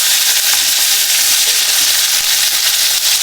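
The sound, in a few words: tomatoes sizzling in a pan for fish curry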